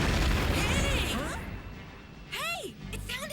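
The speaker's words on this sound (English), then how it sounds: "It sounded like an explosion or something." A loud burst of explosion noise from an animated mecha battle, rumbling across the first second and a half, then fading as whooshing, swooping sound effects sweep in.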